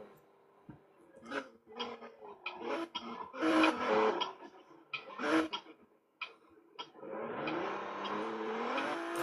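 A labouring car engine in the Roblox game Los Angeles RP coughs and rattles in irregular bursts, then settles into a steady, strained droning rev toward the end.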